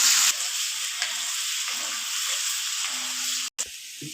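Mushrooms and curry ingredients sauté in a hot pan with a dense, even sizzle, occasional soft stirring scrapes breaking through, close up and uninterrupted by speech.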